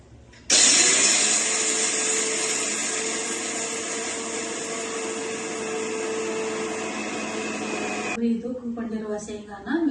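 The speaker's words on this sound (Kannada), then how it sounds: "ಮಿಕ್ಸಿಗೆ ಹಾಕೊಂಡು ಬರ್ತೀನಿ" A kitchen mixer grinder whirs loudly and steadily for about eight seconds while grinding roasted peanuts, its motor drone holding constant before it cuts off abruptly, leaving faint room clatter behind.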